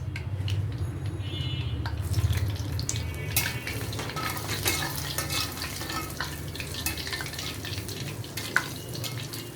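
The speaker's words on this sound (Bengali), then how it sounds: "এবার আমরা এই তেলেই শুকনো মরিচটা ভেজে নেব।" Dried chillies fry in the same oil just used for onions, a soft sizzle under the clatter of a spoon stirring against a metal pan, with occasional clinks and one sharp knock near the end.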